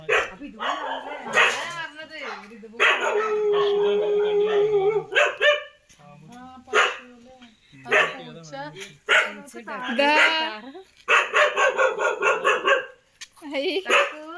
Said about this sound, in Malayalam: ഇവിടെ നിറയെ നായുണ്ടല്ലോ